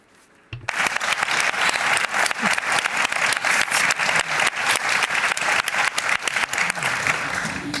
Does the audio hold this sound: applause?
yes